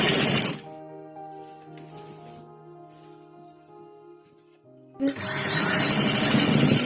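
A sewing machine stitches a kurta collar, running loudly in short bursts at the start and end with a quiet, low hum in the pause between.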